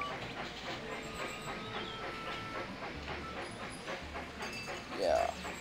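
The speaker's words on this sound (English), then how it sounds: "Now let's watch our train run." A train running in Railroad Tycoon 3 gives a steady rhythmic clickety-clack of wheels on rail, with a soft hiss and a brief rising whistle-like tone near the end, all at a moderate, even level.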